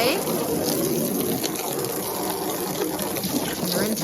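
Water gushing steadily into a new animal trough on a homestead, a continuous splashing rush with a voice talking faintly under it.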